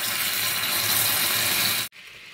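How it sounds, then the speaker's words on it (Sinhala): A continuous rushing pour of hot water into caramel in a pan that stops abruptly near the end, leaving a quieter hiss behind. "දැන් මේකට මම තද උණු වතුර මේස හැඳි දෙකක් විතර එකතු කරනවා."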